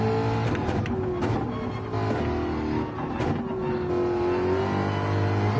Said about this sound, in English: I can definitely hear your car in my ear.